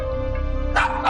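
A dog gives a couple of short, close barks in a home over a steady background hum.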